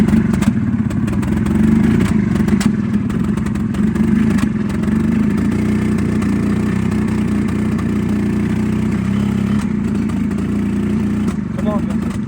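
The small engine of a 1987 EZGO three-wheeler golf cart, in need of carburetor work, runs loud and steady for several seconds, idling with rough throttle bursts while someone talks nearby.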